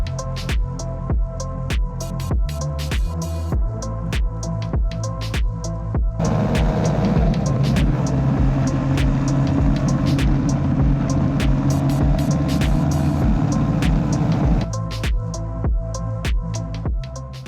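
A Honda CBR motorcycle, freshly serviced with new fork seals, ridden at night: a close, buzzing engine that putters unevenly, then roars steadily under load for several seconds before dropping back to a lumpy idle.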